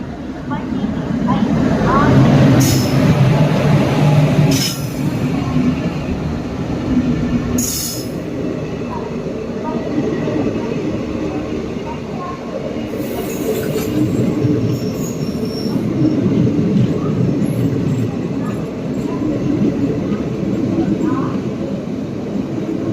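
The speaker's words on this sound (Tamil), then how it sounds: "விழுப்புரம் மயிலாடுதுறை பேசஞ்சர் வந்தாச்சு" A Villupuram–Mayiladuthurai passenger train rumbles past close by as it arrives at a station, wheels clattering and squealing on the rails in a long continuous roar, with voices audible underneath.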